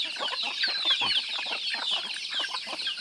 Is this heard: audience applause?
no